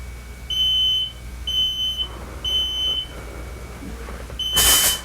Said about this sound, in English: The alarms are going off.